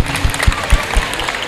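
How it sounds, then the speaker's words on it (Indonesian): Brief burst of clapping from a school audience at SMP Negeri 8 Surabaya, several sharp beats over about a second and a half, loud and close. "Tepuk tangan untuk semuanya"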